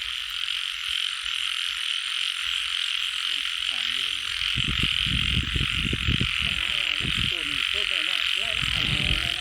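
Narrow-mouthed frogs croak loudly in a pond, a dense, continuous chorus that stays close and steady throughout, with people talking over it in the second half.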